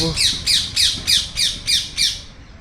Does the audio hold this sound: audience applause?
no